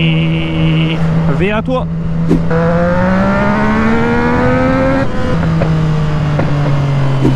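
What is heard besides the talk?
motorcycle engine revving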